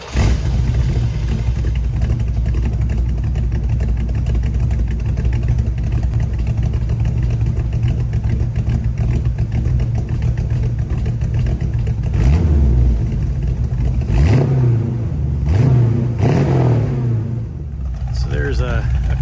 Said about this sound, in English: There's a cold start other than me driving it out of the garage, but as you can tell, it's a little loud.